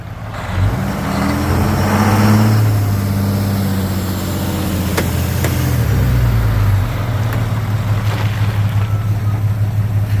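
A Ram pickup truck engine labors while driving off-road near a campsite, a loud close rumble that rises, shifts pitch as the load changes and settles into a steady drone.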